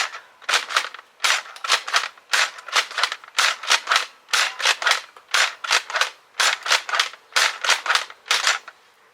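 Nerf Elite 2.0 Eaglepoint blaster with barrel attached firing Adventure Force foam darts: a rapid series of sharp, loud snapping shots in uneven bursts of two to four, close up with no talking.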